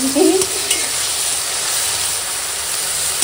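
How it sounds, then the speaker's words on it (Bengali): Pumpkin flowers fry in mustard oil with salt and turmeric, a loud, steady close-up sizzle with a brief scrape of stirring at the start and no talking. "একটু লবণ হলুদ দিয়ে কুমড়ো ফুলটা এখন চাপিয়ে দিয়েছি"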